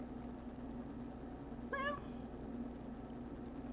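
A single short meow from an indoor cat, clear but not loud, sounds once against a steady low hum of room noise.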